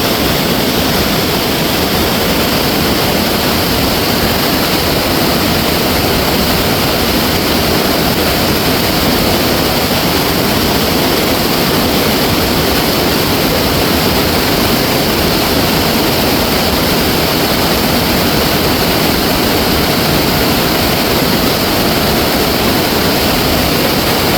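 Flash-flood water surges down the Iruvanjippuzha river in Kerala as a loud, dense, unbroken roaring rush that fills every moment, with no voices over it.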